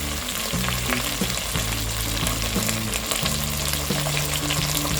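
Mixed vegetables and slit green chilies sizzle and fry in a pot of hot oil for masala pulao, with a dense, steady crackle and occasional stirring scrapes close by.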